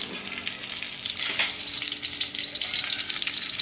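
Two dried chillies crackle and sizzle in hot oil for a dal sambar, a dense, busy frying hiss with stirring scrapes and a brief louder burst partway through, close and with no talk.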